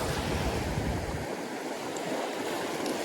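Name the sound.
small ocean waves crashing on New Jersey beach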